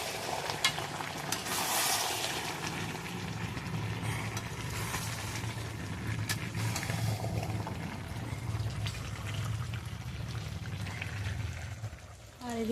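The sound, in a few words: meat being sautéed on a clay stove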